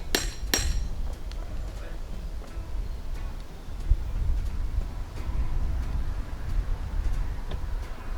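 A wooden stake is hammered into the ground for a fire pit string line with a few sharp blows at the start, followed by lighter irregular taps and knocks outdoors, with faint voice at times.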